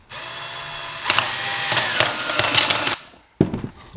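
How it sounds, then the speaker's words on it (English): A power drill grinds noisily through a stack of red plastic cups held together, with crackling, rattling bursts as the bit cuts, a brief stop, then a short final spurt. "I'm just gonna drill it right down the center."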